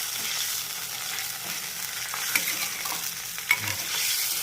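A boiling fish curry base of tamarind, spices and oil is stirred in a pot, giving a steady bubbling sizzle with two sharp scraping knocks near the end and no voices.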